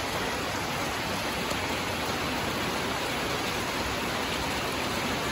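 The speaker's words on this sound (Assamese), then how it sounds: "পুৰা বৰষুণ দি আছে" Steady, dense rain falls outside, a continuous even hiss with no breaks and no one speaking.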